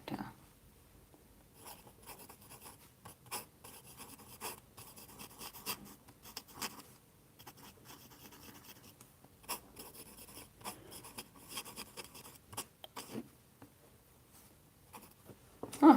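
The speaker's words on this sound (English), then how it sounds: "I'm going to write that down." Pen writing by hand on paper in a quiet room, soft intermittent scratching strokes in short bursts with pauses, close and faint throughout.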